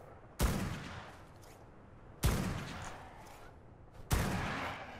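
Gunshots in the game ARK during a taming fight, heard as three loud sharp shots evenly spaced about two seconds apart, each with a long trailing echo and no voices.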